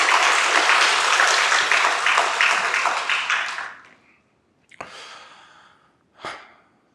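Church congregation applauding during a Sunday worship service, a dense steady clapping that fades out after a few seconds, followed by a couple of brief soft noises.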